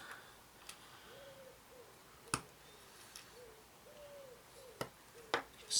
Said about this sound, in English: You can still hear that pigeon, can't you?